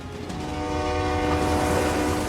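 Polar Bear Express passenger train rolling through snow toward Moosonee, its horn sounding loudly and steadily over the rumble of moving cars, sustained across the whole stretch.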